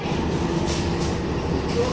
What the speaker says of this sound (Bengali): এই দেখুন অন্য সাইডে ট্রেন যাচ্ছে